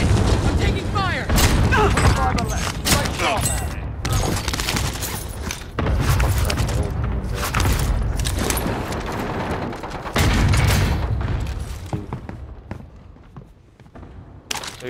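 Video game gunfire in bursts of loud booming shots and thuds, with heavy stretches between quieter gaps, mixed with footsteps and mechanical clatter while players talk over it.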